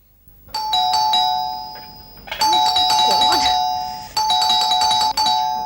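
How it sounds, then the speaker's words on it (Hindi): A house doorbell in a Hindi TV drama rings over and over in quick bursts of electronic chimes, loud and close, with brief pauses between the bursts. "लगता है कोई चढ़ के ही बैठ गया घंटी पे।"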